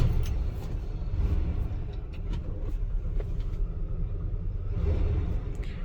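A 1984 Chevrolet C10 with its original 5-liter engine and 107,000 miles turns over and settles into a low, steady rumbling idle, close and continuous with no talk.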